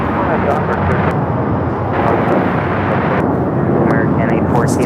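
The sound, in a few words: Volaris Airbus A320 taking off from LAX runway 25 right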